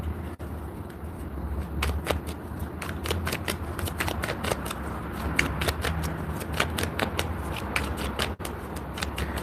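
Tarot cards are shuffled steadily and close up, giving a dense run of crisp riffling snaps and slides that carries on for several seconds over a faint background hum.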